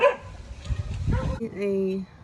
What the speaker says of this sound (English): sorry, my dog was barking earlier